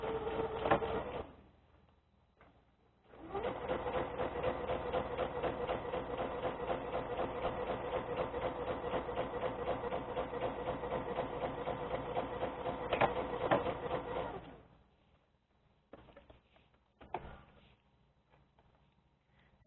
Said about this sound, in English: So I'm going to sew like this